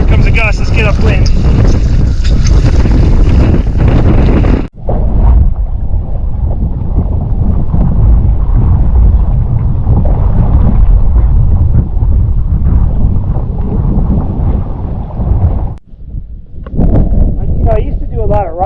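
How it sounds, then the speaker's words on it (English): Strong wind gusting over a microphone while wingfoiling on a lake, a loud continuous buffeting roar with two brief drops, water and board noise mixed in. "Here comes a gust."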